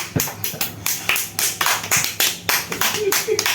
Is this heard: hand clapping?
yes